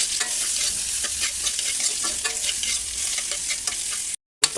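Garlic and onion frying in hot oil in a pan, a steady close sizzle with occasional stirring scrapes running throughout, cut by a brief gap near the end.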